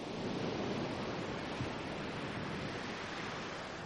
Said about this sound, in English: It's windy and it's cold